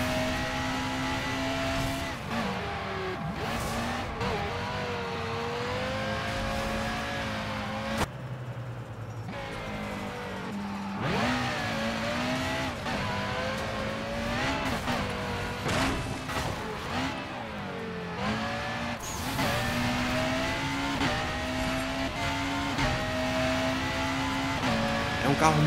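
A modded Lamborghini Veneno driven in the video game Burnout Paradise, with the engine revving up and down through repeated gear changes and tire squeals while someone talks over it.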